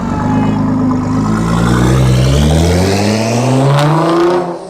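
A Nissan GT-R sports car engine revs loud and close, its pitch sweeping up and down in a continuous rasping roar that cuts off near the end.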